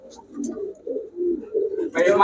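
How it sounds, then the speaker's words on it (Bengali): Short-faced pigeons coo in low, throaty, rolling phrases close by, ending in a brighter burst of sound. "এ হচ্ছে অরিজিনাল শর্ট ফেস কবুতর"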